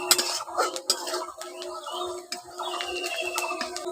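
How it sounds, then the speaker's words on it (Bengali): Onion being stirred and fried in a pan with turmeric, cumin and red chili powder, heard as steady close scraping and clinking of a spoon against the pan with a faint sizzle beneath. "দিয়ে ভালো করে পেঁয়াজটাকে একটু নাড়াচাড়া করে ভেজে নিচ্ছি"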